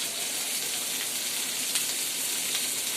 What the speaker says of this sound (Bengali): মাছ ভাজি করা হচ্ছে